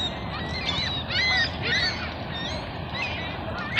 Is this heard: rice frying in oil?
no